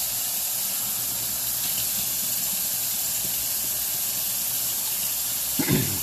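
A kitchen tap runs cold water in a steady, unbroken hiss while potato leek soup is being made, ending with a brief clatter near the close.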